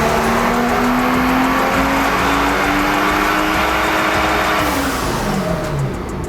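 A rear-wheel-drive-converted car, formerly xDrive, revs hard on a chassis dyno during a power run, its engine note climbing steadily and loud and close, then dropping away near the end.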